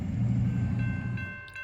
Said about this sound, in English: 2 Gevos hauling this long line of intermodal containers